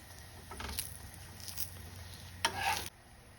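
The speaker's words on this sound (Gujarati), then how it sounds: "પલટાવતા સરસ ક્રિસ્પી થાય ત્યાં સુધીને આપણે શેકી લેવાનો છે પરાઠાને." An onion paratha fries in oil on a pan, a soft continuous sizzle with brief louder crackling bursts as it is turned and roasted crisp.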